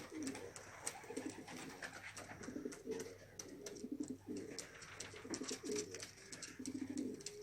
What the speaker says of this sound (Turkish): Her taraf kuş oldu.